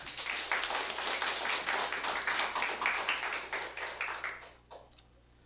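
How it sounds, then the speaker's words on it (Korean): A church congregation claps together at a Sunday worship service, a dense burst of many hands lasting several seconds before thinning out and stopping, with a couple of last scattered claps. "우리 하나님께 영광의 박수 올려드리겠습니다"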